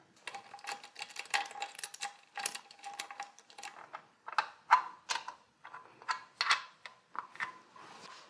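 Someone hand-tightens 17 mm bolts joining the transmission to the engine of a Mercedes 560SL: quiet clusters of ratcheting clicks and metallic ticks come in short irregular bursts, close by with near silence between.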